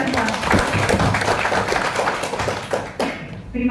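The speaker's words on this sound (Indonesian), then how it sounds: "Tepuk tangan untuk kita semua." Audience at a village tourism event in Dayun, Siak, Riau, clapping together in a steady, fairly loud round of applause, with voices mixed in throughout.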